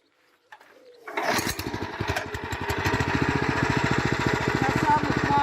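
A walk-behind tractor engine being started in first gear: a pull and catch, then a steady fast-pulsing single-cylinder chug that builds and holds close and loud.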